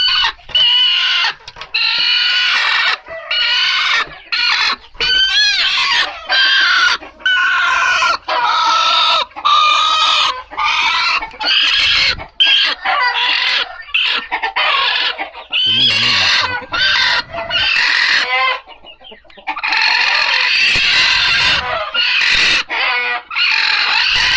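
Dense, continuous clucking and squawking from a flock of native chickens, loud and close, with occasional crowing-like calls and brief gaps.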